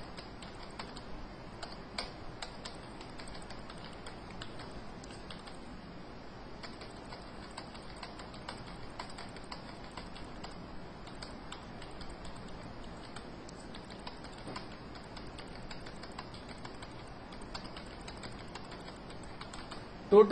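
Continuous soft clicking of numbers being typed on a computer keyboard into an MS Excel 2007 spreadsheet, steady and faint, with a voice talking quietly in the background.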